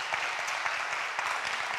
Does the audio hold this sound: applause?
yes